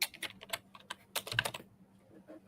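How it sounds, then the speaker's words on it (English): Rapid computer keyboard typing in a quiet room, a flurry of close, crisp keystrokes in bursts that stop abruptly partway through, leaving near silence. "What's all the typing?"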